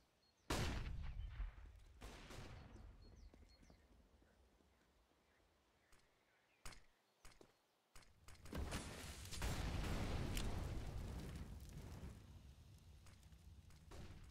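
Gunfire in a CS:GO professional esports match on the Inferno map, an AWP sniper rifle among the shots: a sharp loud report, then quieter stretches broken by scattered shots and a dense burst of fire near the end.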